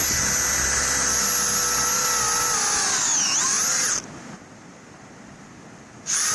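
A power drill pre-drills holes in a pipe during a footbridge rebuild, whining loud and steady with the pitch dipping under load, then stopping briefly before starting again.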